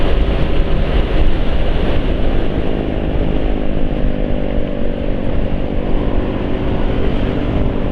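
A rough-running Honda Beat or Suzuki Spin scooter engine drones loudly and continuously up close, a harsh, steady mechanical roar with no change in pace.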